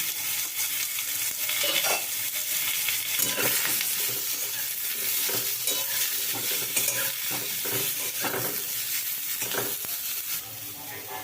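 Raw mango pieces sizzle steadily in hot oil spiced with fennel seeds while being stirred, a continuous close frying hiss with scraping stirring strokes throughout, no voices.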